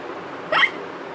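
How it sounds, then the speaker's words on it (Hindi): An animated cartoon pig character gives a single short hiccup, clear and close, over a steady soft background with no talking. "पेपा ने हिचकियों का जो इलाज किया उसने काम नहीं किया।"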